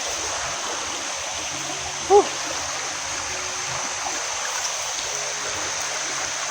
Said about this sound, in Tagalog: Ilog papunta doon sa baba.